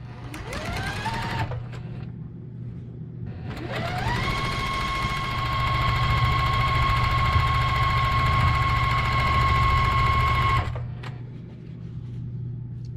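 A sewing machine runs in two bursts, a short one and then a long steady run of about seven seconds, stitching white quilt sashing pieces a quarter inch from the edge, with a constant low motor hum throughout.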